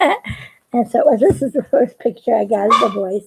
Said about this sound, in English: that's my doggy barking